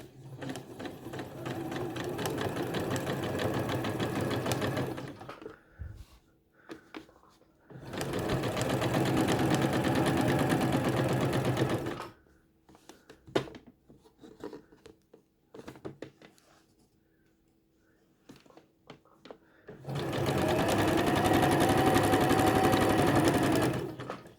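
A sewing machine runs a 3.0 mm straight stitch across quilt fabric in three bursts of several seconds each, separated by quieter pauses holding brief handling noises.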